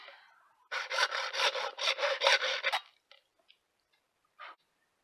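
Close, steady hand sawing through animal horn, a quick run of rhythmic rasping strokes that stops abruptly, followed by a few faint clicks and one last short scrape.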